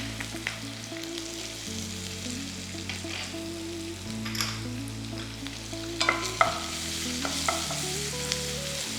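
Onion and sliced ginger sautéing in a pan for egg curry, a steady close sizzle with scraping stirs of a spoon, under a sustained background hum and no talking.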